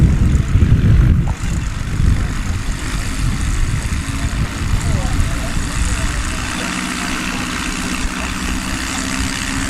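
A Husky STOL airplane on the runway at a STOL demonstration event runs up its propeller engine, a loud steady low roar that builds in power as an announcer talks over it.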